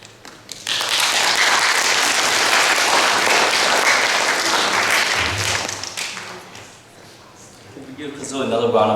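Audience applause at a YPP 30th-year reunion, a loud sustained burst of many hands clapping for several seconds, then fading out before a voice begins speaking.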